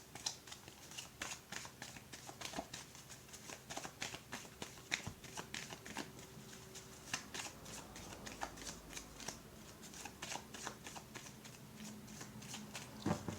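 A deck of cards is shuffled close up for a card reading, making quiet, repeated riffling and flicking sounds in a steady rhythm for several seconds, with no one speaking.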